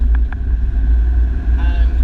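A Land Rover's 2.5-litre TD5 turbodiesel accelerates. Its low engine drone is heard from inside the car, steady and strong, with a faint rise in pitch toward the end.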